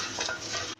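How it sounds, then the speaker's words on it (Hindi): A spoon stirs milk with condensed milk and mango in a pot on the stove, a short, close, continuous scraping swirl with a faint sizzle that cuts off abruptly. "अब चम्मच चला के इसको अच्छे से मिक्स करें"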